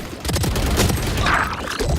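Gunshots in the video game Valorant, heard during a watch party of a VCT Pacific playoff match: loud, close bursts of firing run back to back, almost without a break.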